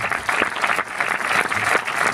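Audience applause fills a screening room as the film team introduces victim-support organisations, a steady dense clapping from a full hall lasting the whole moment with no voices on top.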